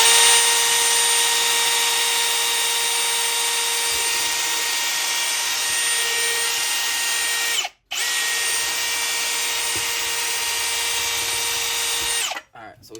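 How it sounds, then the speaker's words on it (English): Power drill with a hole saw boring through a pole barn garage wall, a loud continuous high whine held steady for several seconds, a brief stop, then resuming before winding down. "So now we're just gonna drill the hole, and then we're gonna go all the way through the wall"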